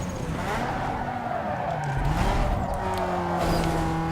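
Several race cars roar through the last lap in Need for Speed Underground 2, engines whining at high pitch with gear changes and tire squeal layered over a dense, continuous, loud mix.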